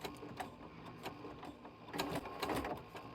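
A sewing machine fitted with a walking foot stitches through felt, giving a close, rapid mechanical whirring in short bursts with brief pauses between runs.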